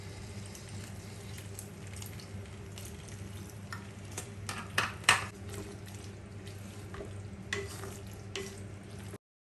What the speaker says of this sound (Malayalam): ഇനി നമുക്കിതൊന്ന് നല്ലപോലെ ഒന്ന് ഇളക്കിയെടുത്താൽ മതി.